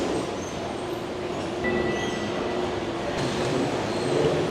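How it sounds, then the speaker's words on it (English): A New Jersey Transit AirTrain runs with a steady broadband rumble and faint high wheel tones, continuous and fairly close, with no talking. "going to take New Jersey Transit air train from here to Penn Station"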